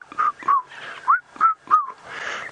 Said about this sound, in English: There's the red-chested cuckoo calling again